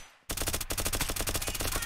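Rapid automatic gunfire from the video game Unturned, a loud sustained burst of closely spaced shots that starts abruptly after a brief quiet moment and keeps its steady rhythm to the end.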